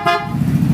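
The horn on a Zontes 400M motorcycle sounds one short, loud honk, heard close up, followed by a low rumble.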